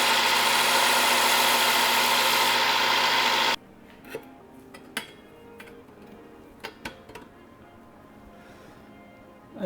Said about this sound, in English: I need to shorten that up, so I'll take it out to the belt sander.